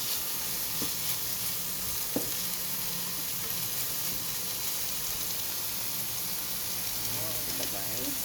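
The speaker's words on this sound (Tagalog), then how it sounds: "gisa ko lang" Vegetables for chop suey sauté in a hot pan with a steady, dense sizzle throughout, broken by a few sharp utensil clinks against the pan.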